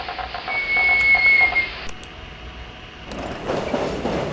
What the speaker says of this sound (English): a big purple commuter train came into view